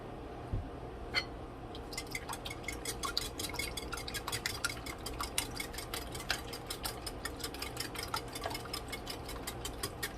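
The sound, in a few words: butter melting in a heating pan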